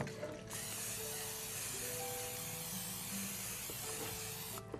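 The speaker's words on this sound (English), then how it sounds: "And then you can spray the pan if it would be so nice." A can of cooking spray hisses onto a baking pan in one long, continuous close spray of nearly five seconds, with a slight sputter near the end.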